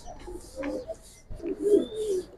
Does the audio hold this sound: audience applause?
no